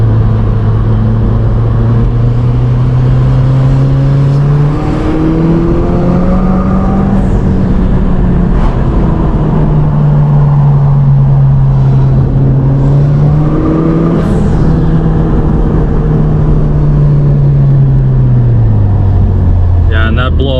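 A 2017 Subaru WRX Premium CVT heard from inside the cabin, its engine pitch climbing and easing in long sweeps as the car accelerates hard, with short airy bursts from the blow-off valve between pulls.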